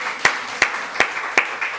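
During a Sunday church service, four sharp, evenly spaced hand claps ring out close by over a faint background hum, steady and rhythmic rather than a full burst of applause.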